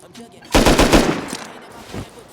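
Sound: firing explosive ammo in video game Rust

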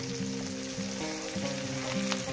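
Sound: frying small river fish in oil

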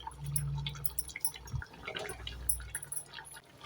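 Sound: drumstick masala gravy boiling in pot

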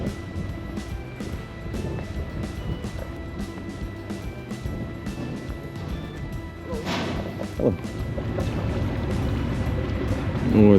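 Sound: seaside in Istanbul with motor boats

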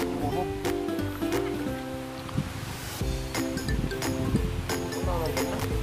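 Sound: rain and strong wind outdoors

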